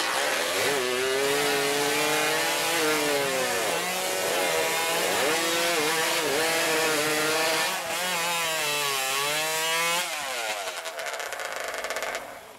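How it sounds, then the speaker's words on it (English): A hot saw powered by a snowmobile engine screams through wood during a lumberjack sports race, a loud continuous high-revving whine that wavers in pitch through successive cuts before dropping off near the end. "they've evolved it with the hot saw. It's a snowmobile engine on a saw, and they're going with 3 cuts."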